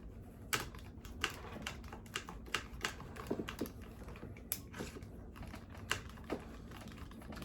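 Metallic clicks and taps ring out while front bumper mount bolts are removed from a Traxxas Xmaxx RC truck, sharp irregular ticks scattered over a quiet room tone, close and fairly soft.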